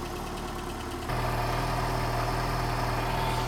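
A 1984 Ford Escort 1.6 CVH cabriolet idles on choke just after a cold start. Steady mid-low engine drone that steps up a notch about a second in, then holds an even, continuous idle with no talk.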